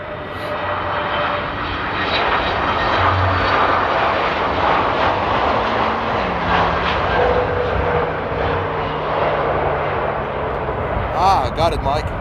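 A fixed-wing airliner arriving at Amsterdam airport in windy weather, its engine roar and rushing air steady and loud for the whole stretch, with a short burst of rising tones near the end.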